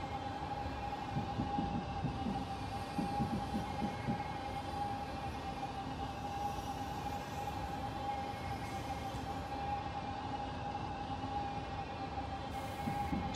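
Steady rail rumble and a sustained mid-pitched whine from an NS DDZ double-deck electric train rolling slowly into Utrecht Centraal station in Train Simulator 2015, continuous with faint rhythmic wheel clatter and no talk.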